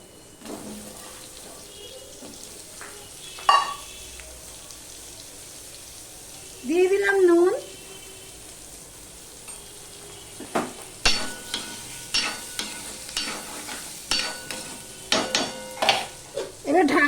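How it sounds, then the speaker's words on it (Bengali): Potato pieces fry with onions and ginger in a pan, a faint low sizzle under a run of spatula scrapes and clinks that quicken toward the end, with a brief tonal sound partway through. "আদা দিয়ে দিয়ে আমি আলুটা ভেজে নেব"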